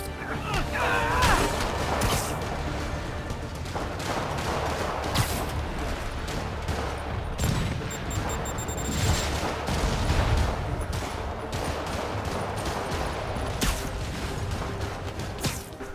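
Rocket fire and explosions in Marvel's Spider-Man Remastered, a dense, continuous barrage of booms and bursts with steady loud rumble throughout, a voice talking over parts of it.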